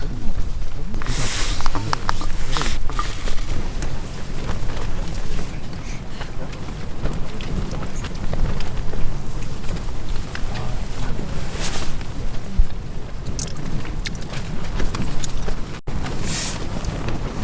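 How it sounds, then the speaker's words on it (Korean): Strong gusting wind buffets the microphone steadily on an autumn silver-grass backpacking trip in rainy weather, a dense roar with occasional sharp bursts. "이렇게 바람이 불지?"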